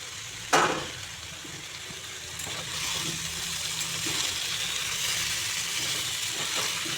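Pumpkin and sweet potato with chopped tomato fry in a pan: a clattering drop into the pan, then a soft, steady hiss that grows slightly louder, with occasional light stirring knocks.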